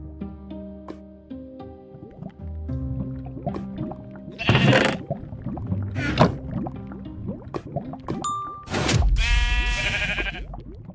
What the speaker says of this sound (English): he killed a sheep, still deciding to take a life